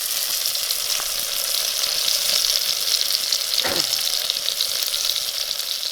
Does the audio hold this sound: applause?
no